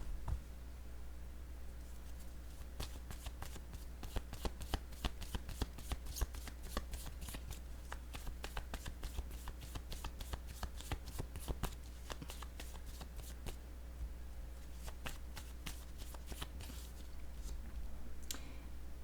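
Tarot cards shuffled by hand at close range, a long run of crisp rapid riffling clicks over a low steady hum, with a few separate snaps as cards are drawn, and no speech.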